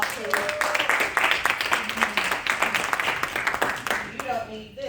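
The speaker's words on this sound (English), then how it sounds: "Give them a round of applause, please." A room of people at a Georgia State entrepreneurship event breaks into steady, fairly loud applause, dense clapping that continues for several seconds and then tapers off, with a few voices heard under it.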